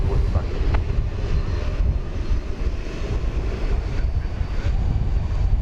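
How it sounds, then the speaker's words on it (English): Airbus A321 arriving from Denver at DFW, a steady low jet rumble at moderate distance that drones throughout, with faint talk over it. "An Airbus A321."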